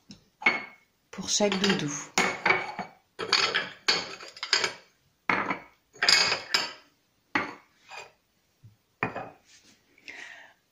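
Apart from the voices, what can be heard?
plates being handed out for a toy birthday party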